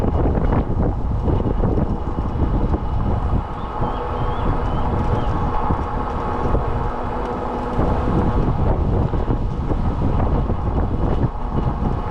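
Strong wind buffets the microphone without a break, a dense roar that covers everything; a few faint hints of a passing vehicle sit underneath.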